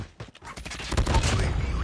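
Rapid bursts of RUS-79U submachine gun fire in Call of Duty Mobile, a rattling stream of close shots that builds into a dense, continuous volley lasting under two seconds.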